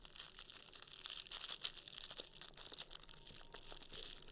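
Small plastic bags of diamond painting drills are cut open and handled up close, giving soft, continuous crinkling and rustling with occasional sharper crackles, fairly quiet throughout.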